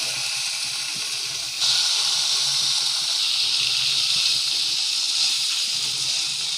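Chicken tikka pieces fry in butter in a pan, a loud steady sizzling hiss that swells abruptly as more pieces go in, then holds even and continuous without talking.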